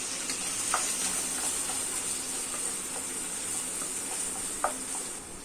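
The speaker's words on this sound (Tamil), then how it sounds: "வெங்காயம் நல்லா பிரவுன் கலர்ல சேஞ்ச் ஆகிற வரைக்கும் நல்லா வதக்கி விட்டுடலாங்க" Chopped onion and curry leaves sauté in a pan for chicken thokku, a steady close sizzle and hiss running throughout, with a few faint scrapes of stirring.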